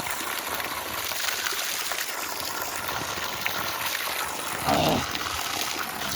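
Natural spring water runs steadily from a village pipe spout in a continuous broad rush, fairly close, with a short louder splash near the end.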